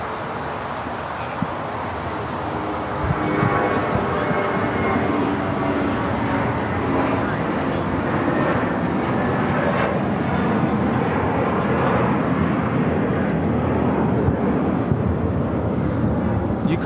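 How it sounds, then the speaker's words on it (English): An airliner at LAX takes off from runway 24 left with a broad, steady engine roar that builds and holds, loud throughout. "We'll head now to the north side for a takeoff on 24 left."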